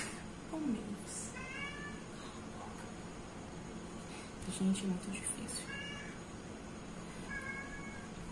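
A pet cat meows several times, some cries drawn out and wavering, close by and mixed in with someone talking over a steady background hiss.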